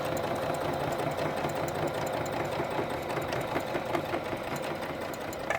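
A sewing machine runs steadily, stitching through fabric to close an opening near a leg seam, its fast mechanical whir continuous and fairly loud throughout with no voices.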